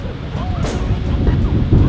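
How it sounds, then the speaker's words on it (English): Wind rushes and buffets a microphone in low, rumbling gusts, with faint voices in the background. "Super windy today."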